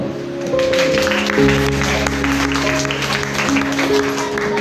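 An audience claps steadily at a creation teaching session, a dense, even wash of applause over sustained low tones, with no clear individual claps standing out.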